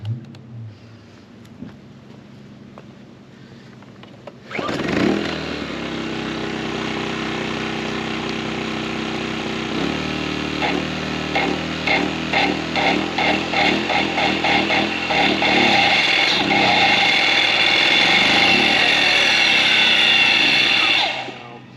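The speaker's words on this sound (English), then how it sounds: "Won't run the chop saw. We'll get it spinning, but it always overloads the safety protection." A chop saw runs on a Sportsman Gen1000i generator, spinning up to a loud, steady whine with strained, fluttering load under a constant engine drone for most of the stretch.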